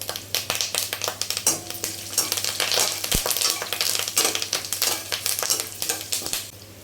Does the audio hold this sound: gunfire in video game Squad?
no